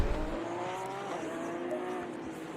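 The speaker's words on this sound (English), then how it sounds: "you can hear the cars going around at the moment" GT3 race cars in the Assetto Corsa Competizione racing game lap the Zandvoort circuit, their engines making a continuous, layered, high-revving drone with no talk over it.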